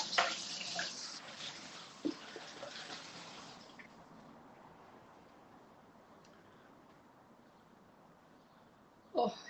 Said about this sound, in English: Just wash my hands out.